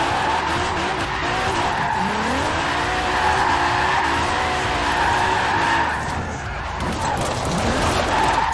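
Tires squeal steadily as a car drifts sideways in the Forza Horizon 4 racing game, with the engine droning underneath and the pitch of the skid sliding up and down through a long continuous slide.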